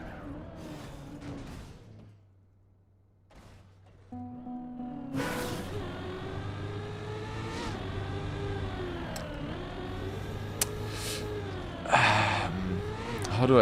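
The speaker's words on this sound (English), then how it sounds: "I wanted to show off by drifting that difficult turn at the very end." Car drifting a difficult turn in a video game: a steady droning engine tone that rises and shifts in pitch through the turn, with a tire-like screech near the end and a brief low hum before.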